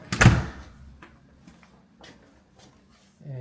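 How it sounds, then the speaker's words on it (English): Thumb latch on an interior house door being operated: one sharp metallic clack up front, then soft scattered clicks and rattles, ending in a low rumble. "I've got a thumb latch. I can do that to this door."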